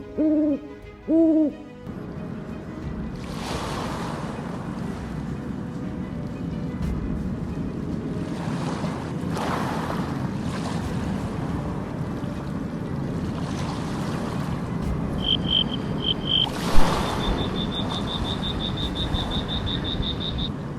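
A night hillside ambience: steady rushing, splashing water runs throughout, a couple of clear owl hoots sound early on, and a high insect-like trill rises near the end. No one speaks.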